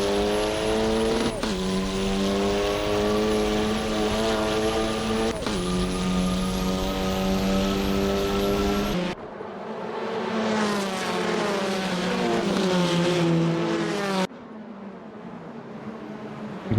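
Touring cars racing at the Jarama circuit, with loud, close engines holding steady high notes that drop sharply at gear shifts, then a pack of cars passing together with layered engine tones, and the sound cuts abruptly between shots.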